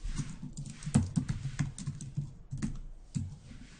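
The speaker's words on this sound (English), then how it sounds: "hit Control period on my keyboard" Rapid clicky keystrokes on a computer keyboard, irregular and close, with a few heavier taps among the quick patter.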